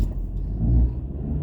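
A car engine rumbles and swells as the driver presses the gas, a low steady roar that rises briefly mid-clip and eases back, close and alone with no talk.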